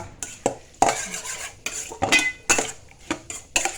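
Pork larb being stirred in a metal pan: a rhythmic series of sharp utensil scrapes and clanks against the pan, close and clear, with a faint sizzle between strokes.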